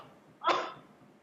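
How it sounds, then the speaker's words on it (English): A single short human sneeze bursts out once, fairly close and alone, against a quiet room background. "I'm a multiple sneezer, so I tend to sneeze a lot when I sneeze."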